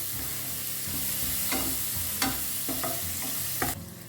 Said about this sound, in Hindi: प्याज को मैंने 1 मिनट के लिए भून लिया है।